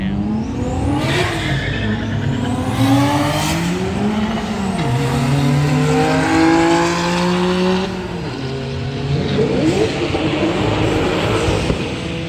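Turbocharged JDM cars, including a Nissan GT-R and Honda Civics, launch and rev at an import car meet, engines rising and falling in loud sweeps with a brief tire squeal, close and continuous.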